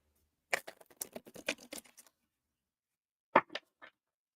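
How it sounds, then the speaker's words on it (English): Tarot cards riffled and shuffled by hand in a quick burst of crisp papery flicks, a pause, then a few more short card snaps, close and fairly quiet. "I'm going to shuffle the cards again real quickly"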